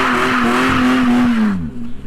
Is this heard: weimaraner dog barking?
no